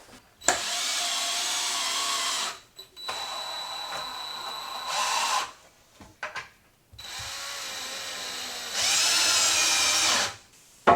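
Power drill boring pocket holes to join a wooden window casing frame, three long whirring bursts separated by pauses with small clacks of handling, close and loud.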